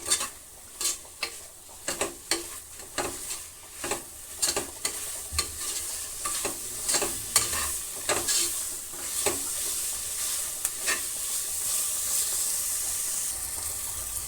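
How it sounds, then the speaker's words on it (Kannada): Coriander and mint leaves frying in a pan for chicken biryani, with a steady low sizzle under repeated sharp scraping stirs of a spatula that come in an irregular rhythm, close up, with no voices. "ಇವೆರಡೂ ಕೂಡ ಒಂದು ಸ್ವಲ್ಪ ಫ್ರೈ ಆಗಲಿ"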